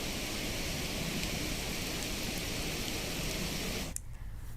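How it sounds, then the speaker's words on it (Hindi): Heavy monsoon rain falling steadily in Chhattisgarh, a dense, even hiss that continues without a break before cutting off abruptly near the end. "कल से हो रही बारिश आज दूसरे दिन भी लगातार जारी है।"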